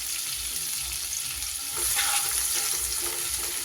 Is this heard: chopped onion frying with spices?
yes